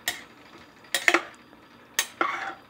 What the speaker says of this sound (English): So we're going to mix all that up, stir all that up.